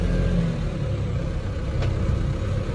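A tempo traveller van rolls in through a company gate, its engine a steady low rumble close by, with no speech over it.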